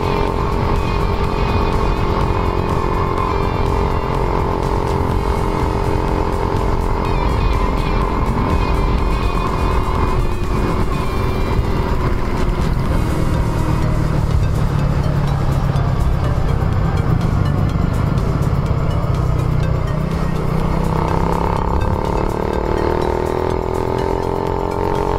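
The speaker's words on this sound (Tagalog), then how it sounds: "Mainit na mainit itong makina natin. Dahil parurot tayo ng parurot kanina." A rebuilt Suzuki Raider motorcycle engine revs loudly and steadily for about 25 seconds, its pitch rising and falling through repeated throttle blips, close by with no talk over it.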